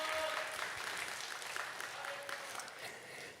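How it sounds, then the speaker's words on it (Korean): A church congregation at a youth worship service in Jeju applauds the two worship singers and the accompanist, a steady, even wash of clapping that fades slightly toward the end, with faint voices beneath. "우리 찬양으로 수고해준 우리 두 형제 자매와 반주자에게 우리 박수로 격려하도록 하겠습니다"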